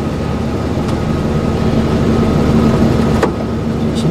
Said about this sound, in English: Truck's idling awfully high